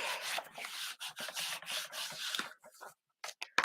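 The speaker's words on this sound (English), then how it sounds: "give that a nice burnish on the back" A cardstock panel is burnished on its back, producing close, quiet scratchy rubbing strokes in quick bursts, pausing briefly before a few final short rubs.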